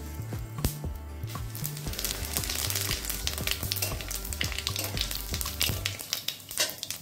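Dried red chillies and cumin seeds sizzle in hot oil as a tempering, a steady close crackle with scattered pops and faint stirring throughout, no talking over it.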